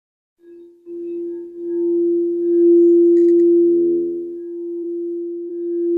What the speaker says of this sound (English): receive the healing and soothing vibrations of the heart chakra tuned sound bowl